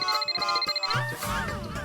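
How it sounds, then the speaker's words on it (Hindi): A phone rings in a few short, bright electronic pulses, then the ringing gives way to a clattering, busy mix of other sounds in a domestic comedy scene. "टप्पू का फोन है।"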